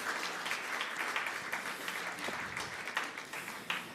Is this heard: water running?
no